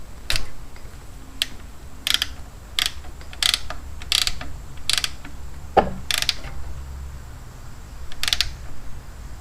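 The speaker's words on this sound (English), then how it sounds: "I'm going to torque that to 60 inch-pounds because that's the lowest my torque wrench goes" A ratcheting torque wrench tightens the primary drain plug on a 2006 Harley-Davidson Ultra Classic to 60 inch-pounds, a string of sharp, close clicks at an irregular pace over low background hum.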